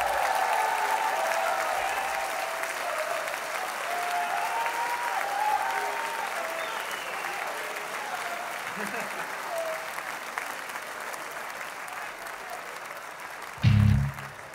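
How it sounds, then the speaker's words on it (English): Sustained applause from a concert crowd at Koko fills the whole stretch, a dense steady roar of clapping with a few cheers, closing in a brief louder burst near the end. "Can you guys give him the hugest round of applause?"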